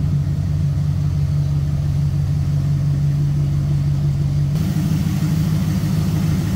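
A 1967 Ford Galaxie's 289 V8 engine idles with a deep, steady rumble, close and fairly loud, its tone shifting slightly near the end.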